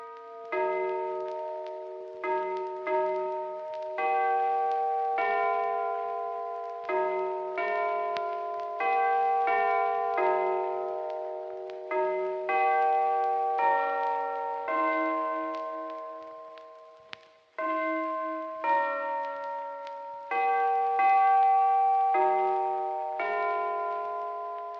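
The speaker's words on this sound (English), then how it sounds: "This bell is sterilized." A bell struck over and over in an uneven rhythm, each ring a clear metallic tone fading away before the next stroke, close and alone with no voices.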